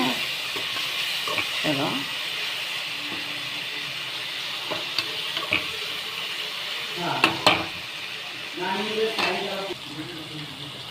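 Garlic paste sizzling and frying in a pan for dum biryani, with a spoon scraping and stirring at intervals over a steady hiss, close and clear, and a brief spoken word partway through.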